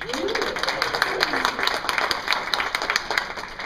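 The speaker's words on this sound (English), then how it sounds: "So you should give all yourselves a round of applause for those." A convention audience gives a round of applause, a steady wash of many hands clapping that stays moderately loud throughout, with faint voices mixed underneath.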